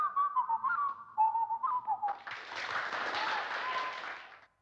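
A man whistles a wavering, tuneful line in place of speech for about two seconds, then loud sustained applause and clapping from an audience takes over until it cuts off.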